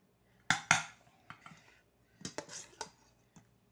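Cooked rice goes into a pot amid quiet kitchen clatter: a few sharp metallic clinks of a utensil against cookware, then soft scraping taps, all close and sparse with no talking.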